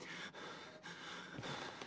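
Heavy, labored breathing from a character in the horror game Outlast, a few faint gasping inhales and exhales over a steady hissing background, quiet and close.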